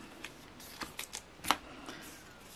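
Vintage trading cards being handled and shuffled up close, with soft papery flicks and light slaps in an irregular run, one sharper snap near the middle, quiet and without talk.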